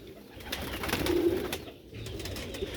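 Sialkoti Jonsra Moti pigeons cooing close by, a soft low rolling coo that swells and fades over steady faint background noise.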